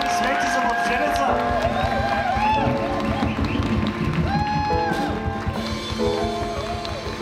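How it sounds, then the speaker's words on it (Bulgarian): Wedding guests clap and cheer loudly for the groom at a wedding celebration, a thick continuous roar of applause with whoops and shouts, music playing underneath and voices mixed in. "Моля, вашите аплодисменти за младоженеца!"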